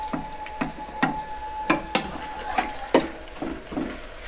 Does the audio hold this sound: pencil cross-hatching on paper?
no